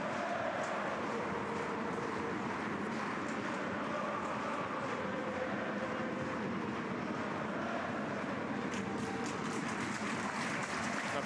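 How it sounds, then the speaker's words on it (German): A large football stadium crowd roars and applauds steadily in a vast space, a dense continuous wash of noise at even loudness throughout. "Applaus für Schrammel."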